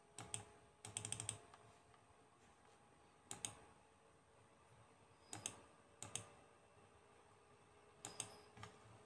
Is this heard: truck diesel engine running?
no